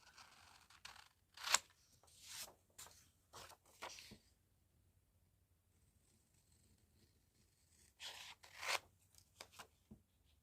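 Scissors cutting paper for book page bundles, heard as scattered quiet snips and rustles in short bursts with pauses between, close but faint in a quiet room, and no one talks.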